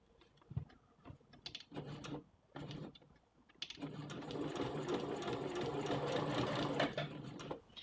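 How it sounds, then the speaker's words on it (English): A sewing machine runs a seam along a bishop sleeve toward the cuff, starting in short bursts and then settling into a steady, close mechanical whirr with a rapid stitching rhythm for the last few seconds. "Now I'm going to sew to the other end"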